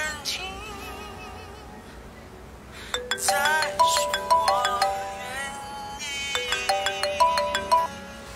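A mobile phone ringtone chimes for an incoming call, two bursts of bright repeating melodic tones, loud and close, separated by a short pause, with soft background sound before it starts.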